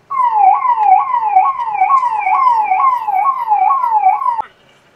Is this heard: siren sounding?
yes